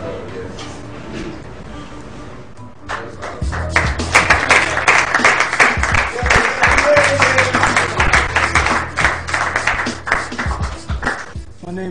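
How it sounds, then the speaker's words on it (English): A crowd at a Morehouse College event breaks into loud, sustained clapping for guests after a few seconds of voices, the applause continuing steadily to the end. "So y'all give them a nice hand of applause."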